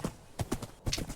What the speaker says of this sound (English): Oh wow, this horse is fast.